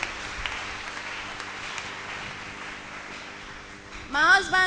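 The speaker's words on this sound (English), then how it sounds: "Clap your hand, everybody" A church congregation clapping during a testimony service, a steady, fairly soft wash of many hands, followed at the end by a voice speaking up over it.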